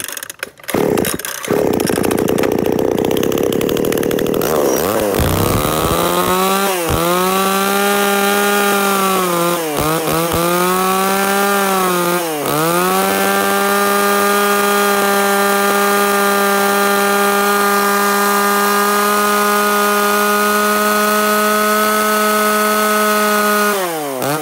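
A used Japanese Shindaiwa chainsaw is pulled to start and then runs loud and close, with a few quick throttle dips in the first half before it settles into a steady high idle buzz.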